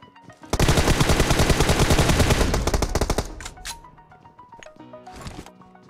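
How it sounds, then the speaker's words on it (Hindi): Rapid automatic gunfire from the battle royale game PUBG, a loud sustained burst of closely spaced shots for about three seconds, then a few scattered shots and fainter game noise. "तभी उनकी तरफ से फायरिंग का आवाज़ आया"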